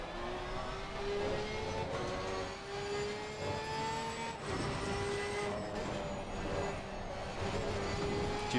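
A GT race car in Assetto Corsa Competizione drones steadily on throttle, its engine tone climbing through gears with brief dips at shifts, a continuous moderate whine with no talking.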